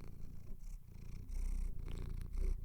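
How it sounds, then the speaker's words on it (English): A house cat purrs loudly and steadily up close in a quiet room, its low rumbling cycling in a slow rhythm with each breath and no talking over it. "He's purring really, really loud right now."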